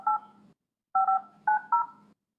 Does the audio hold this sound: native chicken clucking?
no